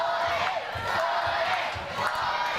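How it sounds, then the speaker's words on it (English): A wrestling crowd cheers and roars continuously in a large indoor venue, a dense wash of voices with occasional thumps beneath. "This crowd totally getting behind Johnny Lyons."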